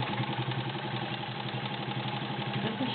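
A White 793 heavy duty sewing machine runs at a steady pace, its motor humming and needle mechanism chattering in a quick, even rhythm, moderately loud and close.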